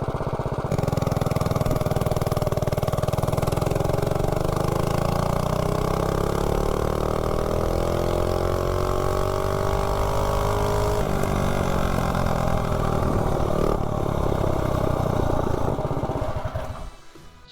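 Predator Ghost minibike with its small engine fitted with a Fire 265 cam, riding on a road: a loud, continuous buzzing drone whose pitch climbs and shifts as it accelerates, then fades at the end.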